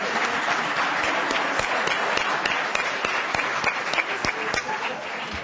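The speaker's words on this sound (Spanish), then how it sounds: "Bien, un aplauso." Applause from a group of participants at a Spanish-language workshop, dense and fairly steady with some individual claps standing out, at moderate loudness.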